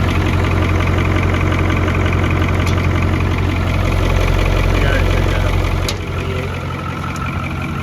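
A Ford F8000 truck with a naturally aspirated 636ci V8 idles loudly and close by, a steady deep rumble with a rhythmic knock that softens slightly near the end, and a voice can be heard faintly underneath.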